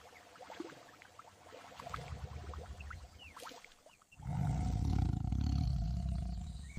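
An AI-generated tiger gives a deep, loud roar that bursts in after a few seconds of lighter rustling and growl-like sounds, then holds as a sustained rumbling roar.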